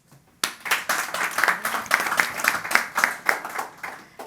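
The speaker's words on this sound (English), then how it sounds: "If you think yes, please clap now." An audience at a nature investment summit claps to vote, starting abruptly after a brief silence, then a moderately sized group of hands beats in an uneven, pulsing rhythm with clear individual claps rising and falling.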